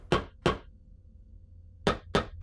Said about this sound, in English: Hear that hammer noise?